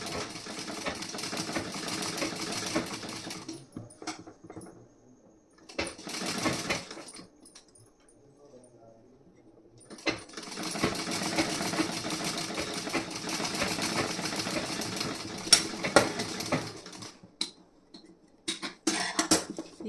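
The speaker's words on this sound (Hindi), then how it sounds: "अब इस साइड में भी उसी तरीके से सिलाई लगानी है।" A sewing machine stitches the front part of a blouse in several runs of steady whirring, separated by short pauses and quiet handling sounds, close and moderately loud.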